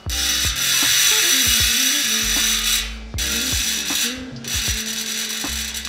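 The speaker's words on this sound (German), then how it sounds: "Hört ihr diese Rasterung, diese feine Rasterung?" Loud, fine-toothed ratchet clicking from a bicycle hub freewheel spins in bursts, a rapid buzzing rattle that stops briefly around the middle and restarts, with low mechanical knocks underneath.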